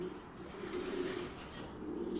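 Pigeons coo softly during pairing, a male and female together in a cage, with low, rolling throaty calls that rise and fall in a couple of swells at moderate distance under faint background noise.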